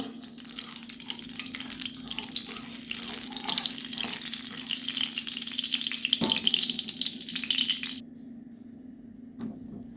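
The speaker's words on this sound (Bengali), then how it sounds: "এখানে কড়াইয়ে আমি আবার তেল নিয়ে নিয়েছি আর সাথে আমি ঘি অ্যাড করছি" Oil and ghee heat in a kadai before cauliflower goes in, a steady close crackling sizzle under a low hum that cuts off abruptly near the end, with no talking.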